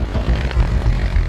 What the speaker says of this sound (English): A police helicopter is scrambled to assist the search.